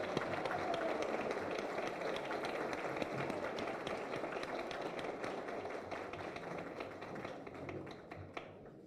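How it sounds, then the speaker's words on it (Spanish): Sustained applause from an audience greeting Senator Miguel Ángel Mancera Espino at an arts awards ceremony in Mexico, a dense, steady wash of clapping lasting several seconds that slowly thins toward the end. "para el cual les pido un aplauso"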